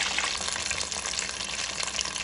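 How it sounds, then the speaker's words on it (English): Steady crackling sizzle of cornmeal-coated chicken frying in hot oil, a continuous bubbling hiss with no voices. "once the chicken is frying for about 20 minutes"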